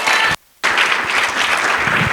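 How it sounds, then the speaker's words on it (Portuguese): Church congregation applause during a sermon, a dense wash of clapping, briefly cut out for a split second before resuming steadily. "Pode aplaudir o Senhor"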